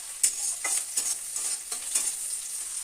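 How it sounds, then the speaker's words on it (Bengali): Chopped radish stirred into onions frying in a pan, giving steady sizzling with several soft scraping stirs about every half second, close and moderately loud. "পেঁয়াজটা একটু হালকা করে ভেজে নিয়ে এবার আমি দিয়ে দেবো ওই কুচিয়ে রাখা"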